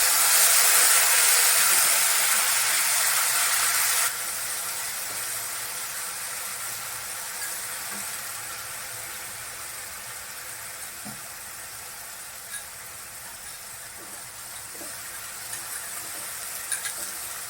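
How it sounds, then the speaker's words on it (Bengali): Poppy seed and green chili paste sizzles in hot oil with tempering spices, a loud hiss at first that settles into a quieter steady frying crackle with a few soft clinks. "ফোড়নটা গরম হয়ে গেছে পোস্ত আর কাঁচা লঙ্কা বাটাটা দিয়ে দিন"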